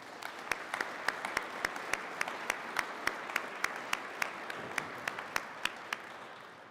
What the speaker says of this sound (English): would you please offer them a round of applause for their hard work?